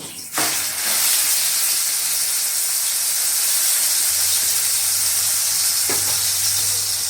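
Eggplant slices dropped into a hot kadai for an eggplant omelette burst into loud, steady sizzling and hissing oil, with a sharp onset at the start and a second flare of spattering near the end.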